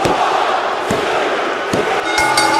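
Roaring crowd noise from a wrestling championship match in a video game, sustained and loud, with a few sharp impact thuds cutting through the din.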